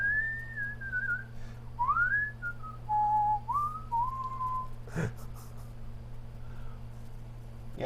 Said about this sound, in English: How long did you practice your whistling?